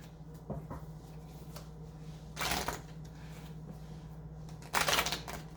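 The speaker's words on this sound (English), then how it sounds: "Okay, get a good shuffle." A deck of cards is shuffled by hand in a quiet room, with two short bursts of riffling rustle separated by soft handling clicks and faint background hum.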